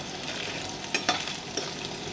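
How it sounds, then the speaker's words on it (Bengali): Potatoes frying in oil in a pan produce a steady hiss of sizzling, broken by a few light clinks and scrapes from stirring, close and with no voices. "এবার আমি আলুটা ভেজে নেবো প্যানের মধ্যে। ভালো করে আমাকে নেড়ে চেড়ে নিয়ে ভাজতে হবে।"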